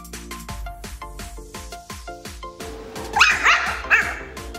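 A young dog barks in a quick run of sharp, evenly spaced yaps close by, which then turn into higher whining yelps near the end.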